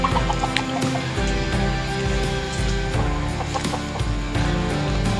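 Chickens cluck repeatedly nearby in rainy weather, short overlapping calls over a steady background hum, with no talking.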